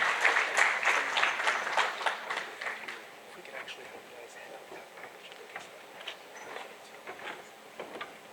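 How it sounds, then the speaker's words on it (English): Conference audience applause, a burst of claps that is loud at first, then thins to scattered, fading claps; speech is faintly present underneath. "If we could give another big round of applause"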